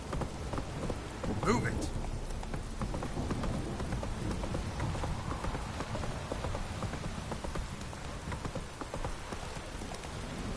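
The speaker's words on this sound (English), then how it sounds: "It don't stop raining." Heavy rain falls steadily in The Witcher 3, a dense continuous wash of drops with a distant rumble and hoof clops near the start, and a voice briefly shouting over it.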